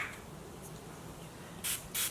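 Two short, close hisses from a pump bottle of rose water, aloe and witch hazel face mist sprayed onto freshly shaved skin, following a quiet pause.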